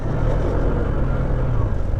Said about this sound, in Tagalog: Traffic guys, oh.